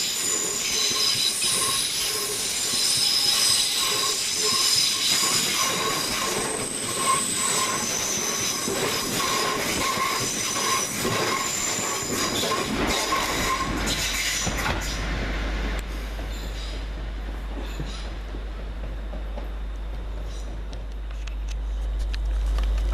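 Class 379 electric multiple units pass through Hackney Downs station in London, wheels squealing loudly on the rails with rumbling carriage noise, then fading to a low steady hum as the train moves away.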